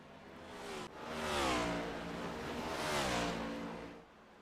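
Race cars in iRacing at Watkins Glen roar past one after another, engines rising and falling in pitch as two cars swell up close and fade away, loud with no talk.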